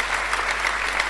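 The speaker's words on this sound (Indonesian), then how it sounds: "Yang setuju berikan tepuk tangan yang meriah buat Tuhan." Church congregation giving loud, lively applause for God during a sermon on a happy family, a dense steady wash of clapping hands from a large crowd, close and continuous with no talk over it.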